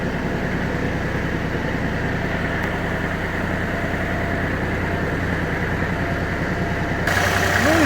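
A Japanese Kubota GL-32 mini tractor with a 32 hp engine idles in a steady, even low chug close by, holding the same drone throughout with a slight lift in level just before the end.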